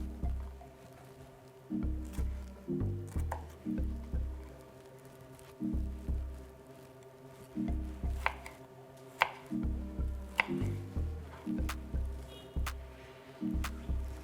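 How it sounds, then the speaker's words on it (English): A knife cuts a vegetable into chunks on a cutting board for beef skewers, giving irregular soft thuds in quick clusters with short pauses between, close and fairly quiet. "So you're just gonna cut it into, chunks."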